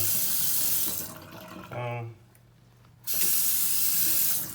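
A Delta bathroom lavatory faucet runs in two bursts, a steady close hiss of water that cuts off briefly and then resumes strongly, with a short voice between them.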